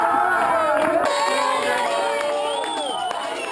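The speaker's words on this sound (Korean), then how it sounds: "우승자에게 진심을 담은 축하와 환호가 여기저기서 터져나옵니다" Crowd cheers and shouts for the winner of a match, a lively mix of whoops and excited voices rising and overlapping, steady and fairly close throughout.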